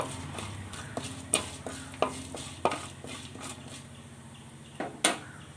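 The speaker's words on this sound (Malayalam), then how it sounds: "അരിയൊക്കെ പൊട്ടി വരുന്നുണ്ട്" Sharp, scattered pops and ticks from rice grains cracking in a hot pan over a low sizzle, with a few louder snaps; no talking.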